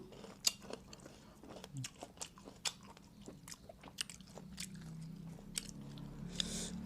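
Crisp bites and chewing on crunchy pickled grapes, a run of sharp close-up crunches and juicy squishes in a quiet room, with no talking.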